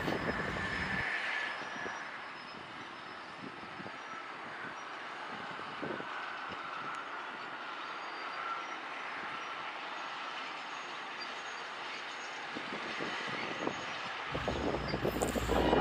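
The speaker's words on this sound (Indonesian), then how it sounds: "sebentar lagi lokomotif akan melewati perlintasan teman-teman" A sugar cane railway locomotive of the PG Kedawung mill, hauling empty lorries, rumbles steadily past a level crossing at Ketegan, a continuous loud mechanical roar with wheel noise, briefly quieter mid-pass.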